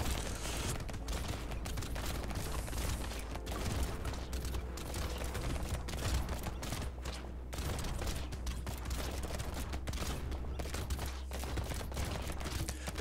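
Enemy gunfire in a shooter video game, a continuous rattling fusillade of rapid shots with mechanical clatter, steady and dense throughout, fairly quiet in the mix with no talking.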